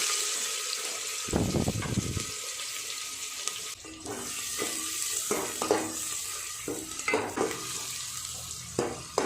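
Onions fry in hot oil already seasoned with bay leaves, dried chillies, cinnamon, cloves and cardamom, crackling steadily up close while a utensil scrapes and stirs them in irregular bursts.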